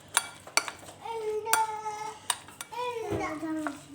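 A chicken mixture is stirred with chili garlic sauce in a bowl, giving soft scraping and clinking of a utensil against the dish while someone talks over it.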